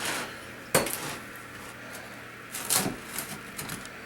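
A knife slicing through a homemade pizza on a hard surface, giving a few sharp scraping clicks and knocks at irregular moments, fairly close and moderately loud, with no talking.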